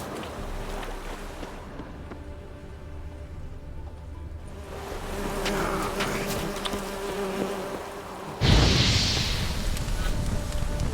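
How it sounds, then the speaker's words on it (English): Bees drone and buzz steadily in The Witcher 3 game world, a loud close swarm hum that swells midway and then gives way to a rushing, windy burst near the end. "Sorry, bees."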